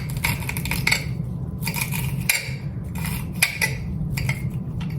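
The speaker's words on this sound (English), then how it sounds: "So I'm gonna take the back of my knife and I'm going to pull the leaves off." The back of a knife scrapes fresh cilantro leaves off their stems on a cutting board. The sound is a steady series of close, soft scraping and brushing strokes, with small clicks and taps mixed in.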